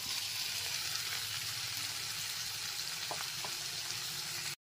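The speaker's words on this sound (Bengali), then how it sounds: "এরপর এর মধ্যে ভেজে রাখা আলুগুলোকে দিয়ে দিচ্ছি।" Fried potatoes sit in a pan of cooked spice masala, hissing in a steady, moderate sizzle that stays even throughout and cuts off briefly near the end.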